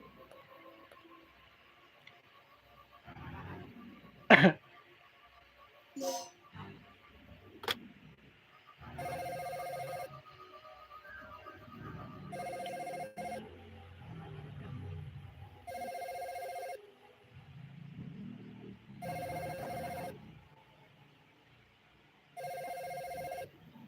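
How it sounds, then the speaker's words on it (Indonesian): A telephone rings in repeated bursts, each ring lasting about a second with short gaps between, fairly close and clear, after a few sharper knocks and clatters in a quiet room. "Ini ada telepon guys."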